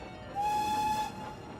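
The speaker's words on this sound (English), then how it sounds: "Then, he heard the sound of a whistle." A steam train whistle gives a single clear, steady toot of under a second, loud against a quiet background, then cuts off sharply.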